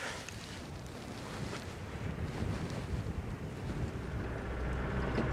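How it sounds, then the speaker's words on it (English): Strong, gusty wind buffets the microphone in open country, a steady rushing roar that builds slightly over several seconds, with no voices or other distinct sounds above it. "It's been windy all day, and the weather's supposed to take a turn."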